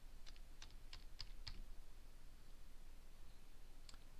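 A handful of soft keystrokes tap on a computer keyboard, quiet and sparse over a faint background hiss, with a short pause before a final pair of clicks.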